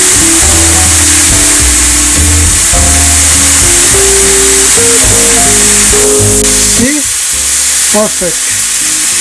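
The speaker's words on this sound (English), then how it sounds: "On a hot pan, we're going to add the marinade." Chicken in marinade sizzles loudly and steadily on a hot pan over high heat, a dense continuous hiss close by, with background music and a brief spoken word near the end.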